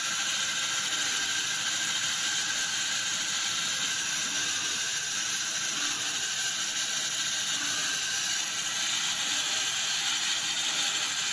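Sawmill blade cutting timber while its wheel wobbles with each pass, a constant loud whirring, ratcheting mechanical drone with a steady hiss, unbroken and without voices.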